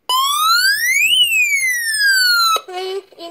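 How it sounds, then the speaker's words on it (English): A loud electronic home security alarm siren sweeps up in pitch and slowly falls, then breaks into a short warbling tone; close and alone. "you'll hear an entry delay before the siren"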